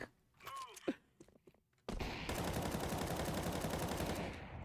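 Gunfire in a shooter video game: a few scattered shots and thumps with brief voice sounds, then a loud sustained automatic burst that pours on for nearly three seconds before easing off.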